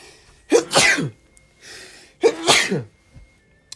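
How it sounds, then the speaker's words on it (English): Two sharp sneezes, close and loud, separated by a short pause. "I think I'm gonna sneeze again."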